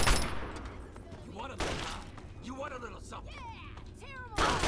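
Raider gunfire in the video game Fallout 3, in scattered shots and short bursts with bangs near the start and end, mixed with game noise and a voice talking through much of it.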